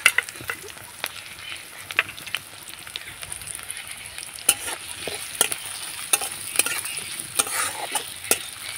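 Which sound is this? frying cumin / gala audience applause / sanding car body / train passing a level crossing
frying cumin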